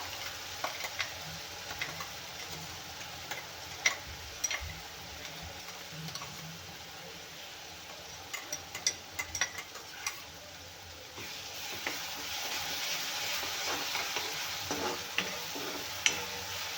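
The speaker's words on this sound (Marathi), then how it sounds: "मिरच्या हिरव्या भाजलेल्या नाही आहेत कच्च्याच घातल्या त्याच्यासाठी त्या तेलामध्ये छानपैकी परतून घ्यायचे आपल्याला" Raw green chillies sautéing in oil for a mustard greens dish, a soft sizzle under scattered ticks and clicks of stirring, quieter at first and fuller toward the end, no talking.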